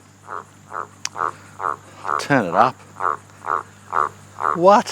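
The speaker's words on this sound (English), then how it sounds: "How loud is that frog?" A frog croaks loudly and steadily outdoors, about a dozen rhythmic calls with even spacing, while a person speaks briefly over a couple of the croaks.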